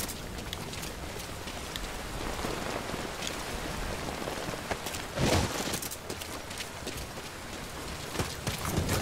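Steady rain in a video game hisses across a wide band, with continuous patter and a brief louder splash partway through, no voices.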